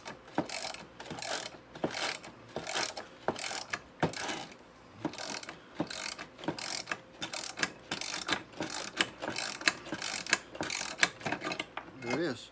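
Pliers working a stuck part loose from a VW Bug engine during a rebuild, giving a steady run of close metallic clicks and ratcheting scrapes, with no talking.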